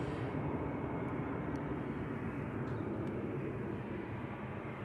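An airliner departing Manchester Airport on the first departure of the day, giving a loud, sustained jet roar that stays close and constant from start to finish.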